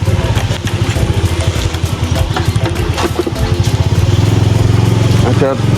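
A motorcycle engine idles and putters with a steady low rhythmic chug in a parking area in the forest near a waterfall, close and loud, with a voice speaking over the machine noise.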